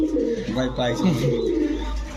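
Sirazi pigeons cooing at a pigeon seller's, soft low throaty coos close by, mixed with people talking.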